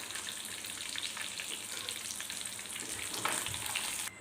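Fish frying in hot oil in a pan, a close, steady crackling sizzle with a brief louder burst near the end before it cuts off, no voices.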